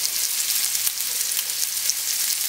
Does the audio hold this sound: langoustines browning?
yes